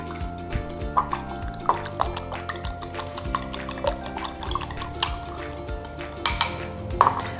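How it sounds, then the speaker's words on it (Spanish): A fork beats eggs in a bowl for parmesan rice croquettes, giving quick repeated clinks and taps against the dish in an uneven rhythm, close and fairly clear with no talking. "Y les voy batiendo con un tenedor."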